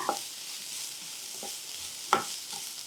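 Vegetables half-frying in a pan for kuzhi paniyaram give a faint, steady sizzle with a couple of brief stirring clacks from a spoon, no voices.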